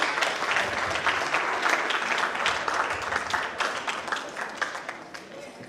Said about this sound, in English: So ladies and gentlemen, please put your hands together for Mrs. Ndidi Nwuneli.